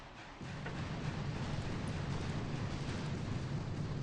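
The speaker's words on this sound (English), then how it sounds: "let's just throw a barrage right there" An artillery barrage in the mobile strategy game Boom Beach, fired on an island base, rumbles as a dense, continuous roar of blended explosions that swells in after a brief quiet opening and holds loud to the end.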